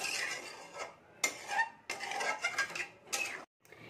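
A pot lid lifted off a cooking pot of jackfruit and potatoes, then a spoon stirring, giving several distinct metallic clinks and scraping taps in separate bursts, close and moderately loud with no talk.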